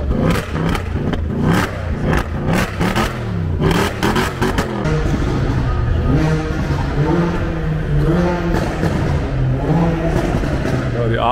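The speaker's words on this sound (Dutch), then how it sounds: "die A45 klinkt ook best wel hard" A Mercedes-AMG A45 revs hard at a crowded AMG car meeting, with loud, close blips and rising engine bursts amid other engines, and people talking underneath.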